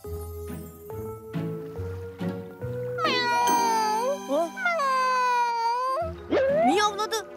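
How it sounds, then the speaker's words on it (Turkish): A cartoon frog gives a string of drawn-out, wailing cat-like meows over light musical backing, clear and close. "Miyavladı. Kurbağa miyavladı."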